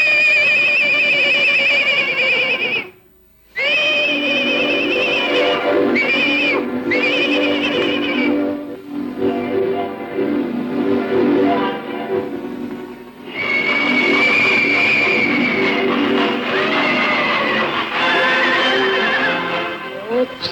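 Horses neighing in a 1947 fairy tale cartoon, with loud, repeated, high whinnies alongside music and brief voices over about twenty seconds.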